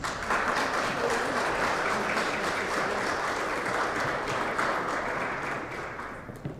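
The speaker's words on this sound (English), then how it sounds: "Let's give them all one more round of applause" An audience at a Teacher of the Year ceremony claps in a steady, dense round of applause that holds evenly for several seconds before tapering slightly at the end.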